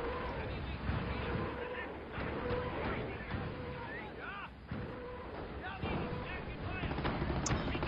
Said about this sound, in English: More needle fire in the middle.